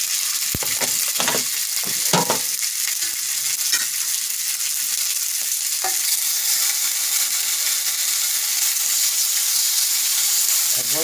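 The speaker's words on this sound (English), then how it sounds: "And what we're doing now is called braising." Food braising in a hot pan gives off a steady, bright sizzle with a constant hiss. A few soft clatters of stirring come early, all close and without voices.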